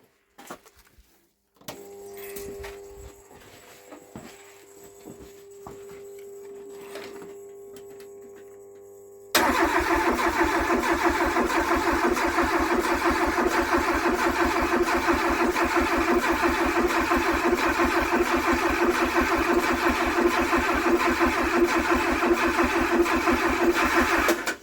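A Talbot Horizon engine fitted with motorcycle carburettors cranks through several seconds of whirring and hum, then catches and settles into a loud, steady, rapidly pulsing idle that runs to the end.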